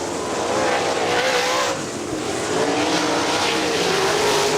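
Sprint cars race at Kokomo Speedway, a dirt oval, as a dense, continuous engine roar sustains at high volume with a brief dip as the pack sweeps past, then swells again.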